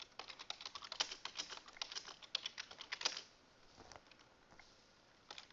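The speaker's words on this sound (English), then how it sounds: "and type down the following query." Fingers type code on a computer keyboard in quick, close, fairly quiet bursts of clicks for about three seconds. Then comes a lull and a few scattered keystrokes.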